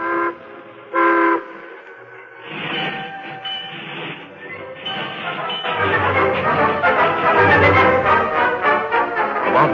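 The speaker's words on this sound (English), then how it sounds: "Then the train rolled on." In an old-time radio drama, a train horn sounds in short blasts, then a rumbling, clattering train builds and rolls on loudly with a steady rhythmic rattle.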